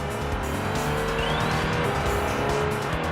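A Toyota MR2, mid-engine and rear-wheel drive, drifts in the PlayStation racing game Touge Max 2, its engine droning steadily while tires squeal in a rising, continuous screech.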